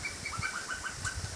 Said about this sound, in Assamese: কুলি চৰাইকেইজনীয়ে খুব মাতিছে